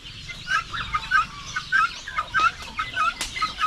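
Many farm chickens clucking close by, a busy run of short overlapping clucks and squawks at a steady rhythm with no talk.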